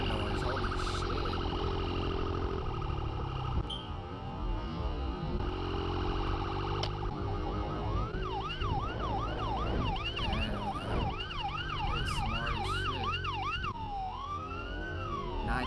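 A police car siren, chasing a dirt bike, starts partway through, wailing in rapid repeated rises and falls over a continuous engine roar.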